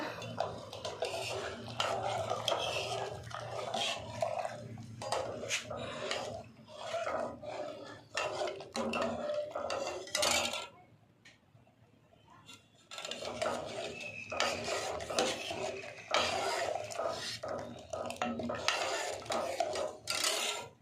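A ladle scrapes and stirs sweet rice pudding with dry jaggery in a metal pot over a gas flame, a continuous rasping, clinking churn that pauses briefly midway before resuming.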